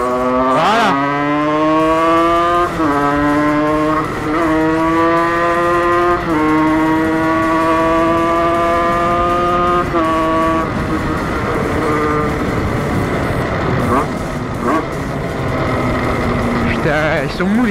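A 50cc moped engine strains to gain revs while riding, its buzzing note climbing in repeated rising sweeps that stall and drop, loud and close throughout, with people talking at times over the engine.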